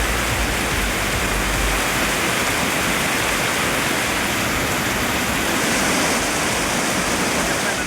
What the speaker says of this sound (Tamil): பெய்த கனமழையால் தாழ்வான இடங்களில் தண்ணீர் தேங்கியது